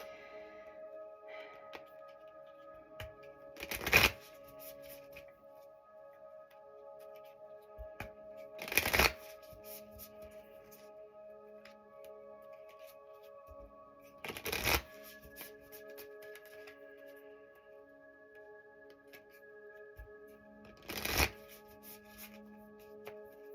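A mandala card deck is shuffled in four short bursts spaced a few seconds apart, each a brief riffle of cards over a faint steady background hum.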